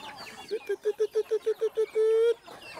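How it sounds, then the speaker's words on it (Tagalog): Backyard chickens give a quick run of about nine evenly spaced clucks, close and fairly loud, ending in one longer drawn-out call. "Ang dami oh, ang dami manok."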